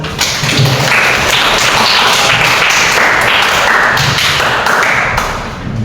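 A classroom audience claps for a group presentation, a dense burst of hand claps that stays steady for several seconds and then fades out.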